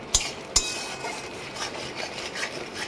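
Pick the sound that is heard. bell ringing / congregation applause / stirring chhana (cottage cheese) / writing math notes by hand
stirring chhana (cottage cheese)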